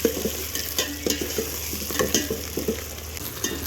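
Onions and green chillies fry in hot oil in a pan for chicken biryani, with steady close sizzling and repeated scraping stirs.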